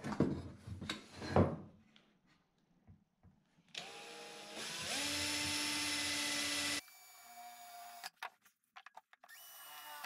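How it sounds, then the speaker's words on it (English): A power drill bores a roughly 11 to 12 mm hole while fitting industrial-style lights with copper pipe conduit, whirring loudly for about three seconds with a rising pitch, then stopping amid clatter and handling noise. "Quick drill, probably 11mm, 12"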